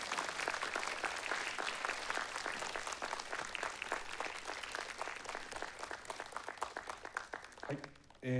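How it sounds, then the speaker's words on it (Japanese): A crowd applauds steadily with dense, continuous clapping at a planetarium concert at Tama Rokuto Science Museum, carrying on for several seconds before fading out. "皆様大きな拍手で、感謝の拍手をお願いいたします。"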